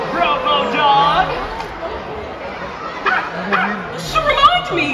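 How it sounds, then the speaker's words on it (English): The Robo Dog character in a Paw Patrol live stage show in Toronto, 2023, lets out yips and bark-like sounds, scattered and fairly close, mixed in with people talking on stage. "Robo Dog, here, pup"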